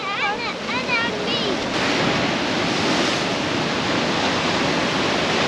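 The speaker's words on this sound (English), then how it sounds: "when a big wave comes, we might get wet" Big ocean waves crash and surge onto the shore at Dongara in extreme weather, a loud, continuous roar of surf with wind noise, and brief chirpy voices are heard near the start.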